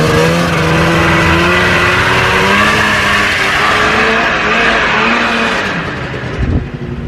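A Yamaha VMAX 500 snowmobile engine warming up, revving loud and close in a steady two-stroke drone for several seconds before easing off near the end.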